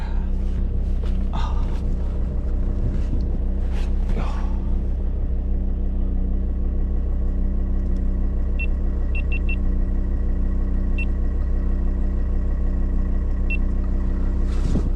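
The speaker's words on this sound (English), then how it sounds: "turned the engine over" A car engine idles steadily with a low, continuous rumble throughout, a few faint clicks and brief thumps rising over it near the start.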